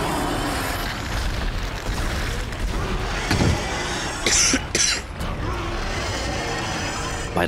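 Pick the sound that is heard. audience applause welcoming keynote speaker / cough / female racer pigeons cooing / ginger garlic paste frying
cough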